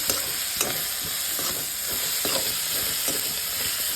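Fried onion and chili powder being stirred in a hot pan for a spicy potato bhaji: a constant hiss of sizzling oil broken by a regular series of scraping spatula strokes, close by and with no voices.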